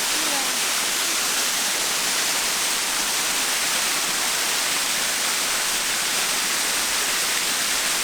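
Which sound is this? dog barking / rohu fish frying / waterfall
waterfall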